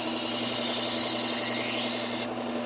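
Wusthof kitchen knives are drawn across a sharpener in a steady, close rasping rub that continues evenly, then softens near the end.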